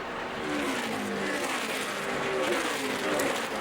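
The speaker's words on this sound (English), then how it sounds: "Riding with Austin Dillon at the Feed the Children 300 at Kentucky Speedway" NASCAR Nationwide Series race cars at Kentucky Speedway during the Feed the Children 300, engines roaring steadily at high revs as the pack runs close together.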